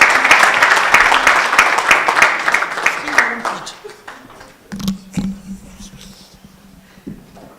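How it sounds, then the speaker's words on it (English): Audience applause for a moderator and chairperson at an executive dialogue event, a dense patter of many hands that fills the first few seconds, then thins and fades as a voice begins speaking. "Round of applause for the moderator,"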